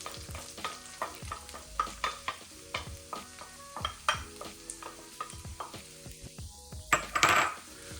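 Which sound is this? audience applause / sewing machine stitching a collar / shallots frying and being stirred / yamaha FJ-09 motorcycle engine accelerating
shallots frying and being stirred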